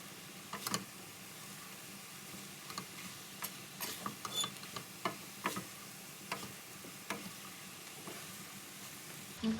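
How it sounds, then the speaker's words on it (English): Bolognese sauce sizzles faintly in a pan as it is stirred, with a soft continuous hiss and intermittent scraping ticks of the spoon, quiet and close with no voices. "Give it a stir. Make sure you stir it right through."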